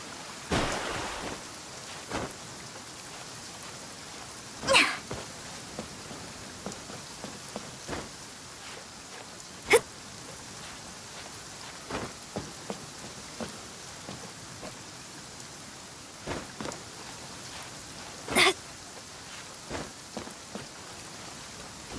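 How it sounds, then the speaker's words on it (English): Heavy rain falling in the video game Genshin Impact: a steady, even hiss of downpour across the whole stretch, broken by occasional sharper splashes of drops landing close by, with no voices. "With rain this heavy, not only are the stars clouded, so too is my scryglass hazy."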